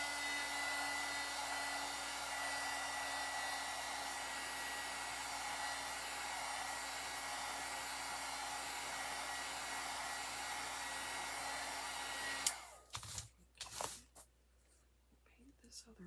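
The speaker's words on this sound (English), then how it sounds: "Hit it with the dryer real quick." A hair dryer blows with a steady, whooshing roar for several seconds, drying paint on a craft gnome, then shuts off, followed by a few soft handling thumps.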